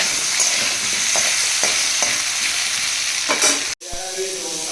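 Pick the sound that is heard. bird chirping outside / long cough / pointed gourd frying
pointed gourd frying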